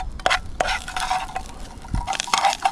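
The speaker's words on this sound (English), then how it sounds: "Let's give it a stir." Morels and stinging nettles stirred in butter in a pan, close scraping and clinking of the utensil against the pan in uneven strokes over a soft sizzle.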